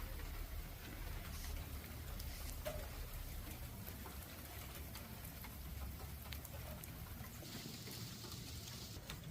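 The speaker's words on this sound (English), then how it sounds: "It's starting to rain harder now" Rain falls steadily and faintly outdoors near a chicken coop, a soft continuous wash of patter with scattered drips, and no voices.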